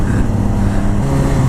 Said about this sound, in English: Can never resist the tunnel exhaust.